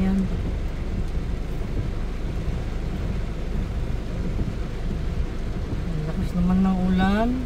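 Steady rain falls throughout, a dense broadband hiss with low rumbling, heard at a market where rice is sold in Bohol; a voice briefly speaks near the end.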